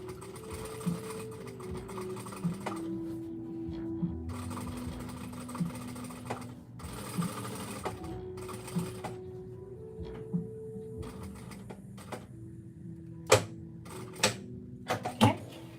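A sewing machine stitches a girl's dress close to the zipper teeth, running in short bursts with pauses, needle repositioning clicks and handling noises between runs.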